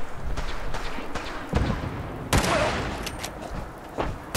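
Rapid bursts of gunfire crack out in Fallout 4 as gunners at Hub City Auto Wreckers shoot at a provisioner, loud overlapping shots with one heavy blast midway.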